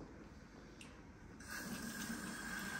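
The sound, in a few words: rinsing hair with tap water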